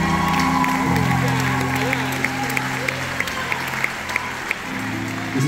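Concert audience at the Magnolia applauds a performer, with sustained clapping and some cheering under sung or spoken tones and lingering music, the clapping thinning into scattered claps toward the end.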